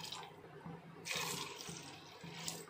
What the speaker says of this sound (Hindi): तो चलिए अभी पानी ऐड कर लेते हैं।